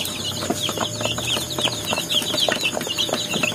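Young chicks peep in a brooder, a dense, continuous chorus of high, rapid chirps overlapping one another at close range, with no talk.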